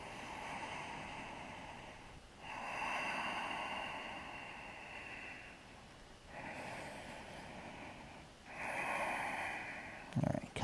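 Slow, deep breaths held during a yoga pose, soft airy inhales and exhales in long swells, faint and close, with no talking.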